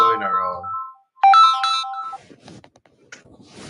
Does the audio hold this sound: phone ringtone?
yes